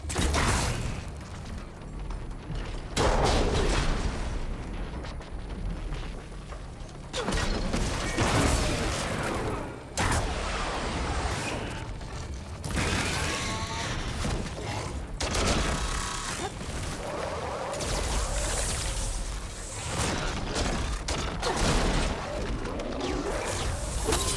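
Explosive arrows burst again and again during a machine fight in Horizon Forbidden West, booming blasts and crashing debris layered over dense game music and effects, loud and continuous throughout.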